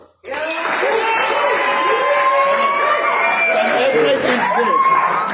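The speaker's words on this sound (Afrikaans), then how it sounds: "kan julle almal net hande klap of geluid maak" A large live audience claps, cheers and shouts together in a loud, sustained burst, with whoops and vocal noise riding over the clapping and a voice sounding through the crowd.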